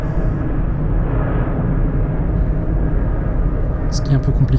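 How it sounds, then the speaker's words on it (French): An airplane passes over an abandoned ghost village, giving a loud, continuous low roar that fills the whole stretch, with a brief higher burst near the end. "Un avion."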